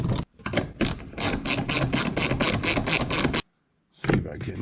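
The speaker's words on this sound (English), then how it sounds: "Just about to get all the screws popped back in it." Screws being driven back into a car door latch, heard as a steady run of quick, evenly spaced mechanical clicks that stop for a moment and then resume.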